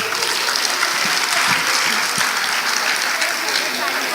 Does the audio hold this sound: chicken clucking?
no